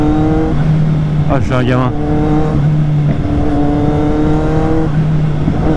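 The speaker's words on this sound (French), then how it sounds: "J'adore ce son, j'adore ce pot, j'adore cette moto." A Triumph Street Triple R motorcycle exhaust idles loud and steady close by, with a brief sharp rev in the middle, while someone speaks over it.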